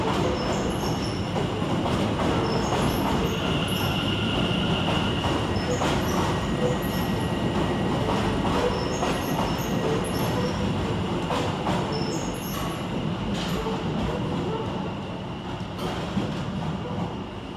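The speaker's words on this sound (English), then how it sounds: "another train's coming in" A train pulls into London Liverpool Street station, rumbling steadily with clanking wheels and high squealing brakes echoing under the roof, loud and continuous throughout.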